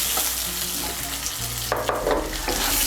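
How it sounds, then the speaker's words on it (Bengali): Sweet potato and potato fry in oil for dudh shukto, a steady close sizzle with stirring scrapes and clatter of the spatula in the pan toward the end, no voices. "রাঙা আলুটাকেও মিশিয়ে নেব। তেলের সঙ্গে মিশিয়ে নিয়ে একটু ভেজে নেব।"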